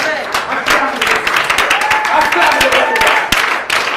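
A church congregation breaks into scattered applause, rapid uneven claps mixed with raised voices and cheering, loud and close throughout.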